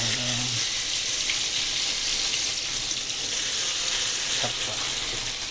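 Lentil piyaju fritters frying in hot oil on a low-heat stove, a steady dense sizzle running throughout with a brief soft knock near the end.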